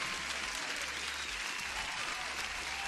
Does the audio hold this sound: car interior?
no